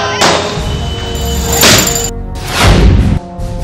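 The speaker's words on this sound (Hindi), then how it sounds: "सड़कों पर गुलाल के साथ आतिशबाजी" Fireworks burst during street celebrations of Holi and Diwali style, with gulal thrown in the streets: loud, close thuds and booms pile up over a dense crackle and the noise of a crowd.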